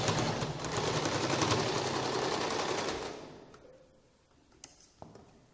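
A sewing machine stitches a sleeve piece in a loud, dense, steady run lasting about three seconds, then fades and stops, leaving a few faint clicks.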